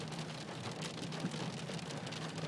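Heavy rain drums on a car driving through a storm cell in East Yorkshire, a dense, steady hiss and patter filling the cabin with no pauses, moderately loud.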